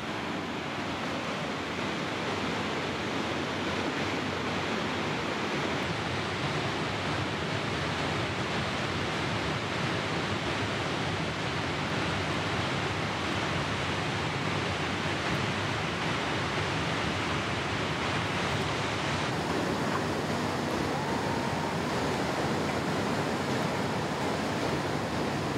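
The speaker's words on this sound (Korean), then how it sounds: "가장 웅장하고 멋있는 폭포는 메인 폭포다." Roar of the main falls at Victoria Falls, Zimbabwe: a dense, steady rush of thundering water, loud and continuous throughout with no pauses, spray-heavy and broadband like surf.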